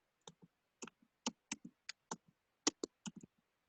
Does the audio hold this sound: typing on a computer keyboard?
yes